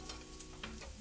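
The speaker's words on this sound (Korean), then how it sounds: "약간 튀기듯이 볶아줍니다" Garlic fries in oil in a pan for aglio e olio, a steady close sizzle with a few soft stirring scrapes.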